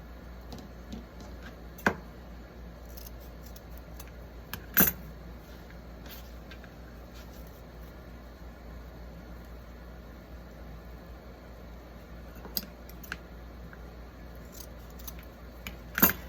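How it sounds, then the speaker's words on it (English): Scissors snip through ribbon tails for a pumpkin wreath bow, a few sharp isolated cuts spaced several seconds apart over a quiet background. "All right, then we'll cut that off."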